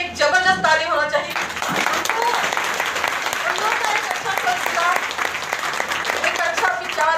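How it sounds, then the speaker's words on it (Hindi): An audience bursts into loud, sustained applause at a motivational meeting, dense clapping filling the room throughout, with a speaker's voice briefly heard at the very start. "लेकिन फिर भी मम्मी पापा के लिए एक जबरदस्त ताली होना चाहिए।"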